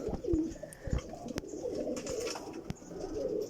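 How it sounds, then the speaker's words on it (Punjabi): A Kamgar pigeon of the Mian Nazir line coos softly and close by in low, throaty phrases, with a few sharp clicks and taps around it. "ਇਹ ਮੀਆਂ ਨਜ਼ੀਰ ਵਾਲਾ ਕਮਗਰ ਕਬੂਤਰ ਹੈ"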